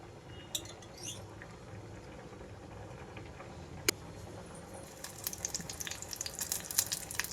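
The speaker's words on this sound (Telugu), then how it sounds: "ఆయిల్ కాగిన వెంటనే ఇందులో కావాలు జీలకర్ర అలాగే కొద్దిగా వెల్లుల్లి రెమ్మలు వేస్తానండి" Cumin seeds and garlic go into hot oil as a tempering for black-eyed pea rasam. A faint background sizzle builds into a busier, crackling spatter over the last couple of seconds.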